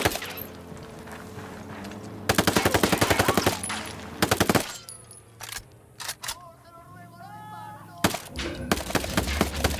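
Automatic gunfire crackles through a firefight in the video game Ghost Recon Wildlands, with a dense burst of rapid shots, a pause, then more bursts, loud and close, mixed with game effects and brief radio-style voices.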